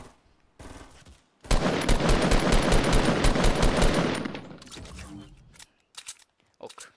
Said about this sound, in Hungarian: Itt valaki mögöttünk lövöldözik